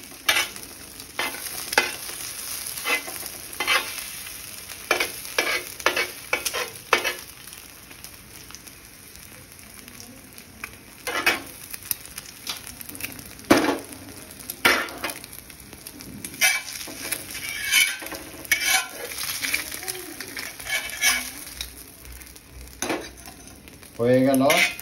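Four eggs poaching in a pan, a constant hissing sizzle broken by frequent spatula scrapes and metallic taps of varying loudness, close up, with no voices.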